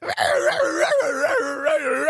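Small dog letting out a loud, high-pitched scream-like howl, wavering and sustained for about two seconds with brief breaks, close and alone without talk.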